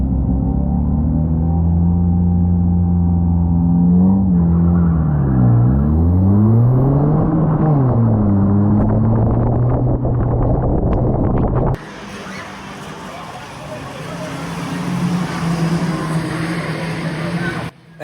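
Race cars launching at the start of a race at Cowdenbeath Racewall, engines revving up and down in rising and falling sweeps, then a broader, noisier roar of the pack pulling away, with commentary over it.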